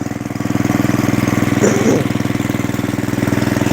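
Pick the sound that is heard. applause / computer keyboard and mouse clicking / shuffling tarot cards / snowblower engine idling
snowblower engine idling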